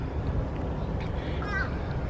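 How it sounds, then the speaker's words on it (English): A crow caws outdoors somewhere off in the distance, a brief harsh call rising faintly above steady low background noise on a morning. "You hear that crow, Charlie?"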